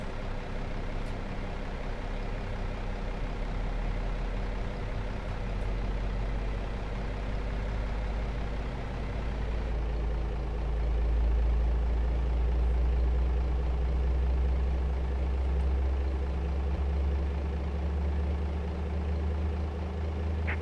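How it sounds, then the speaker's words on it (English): An aircraft pushback tug runs loudly beside an airliner, a steady heavy engine drone with deep low rumble that swells slightly partway through, continuous and close with no talk. "pushback tug is really loud."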